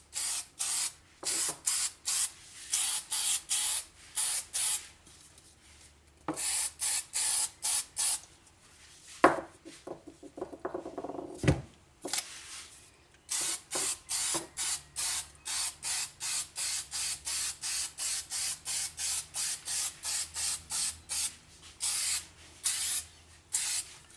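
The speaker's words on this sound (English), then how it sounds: "Now I'm going to spray it with a little bit of spray adhesive" Spray adhesive hissing from an aerosol can onto a tail light part before dry carbon fibre is laid over it, in many short close bursts with a few brief pauses and some handling noise.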